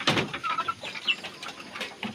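A Talisain gamefowl rooster, black-greyish with Belgian parentage, gives soft, close clucks and short calls in a few quick bursts over a faint farmyard background.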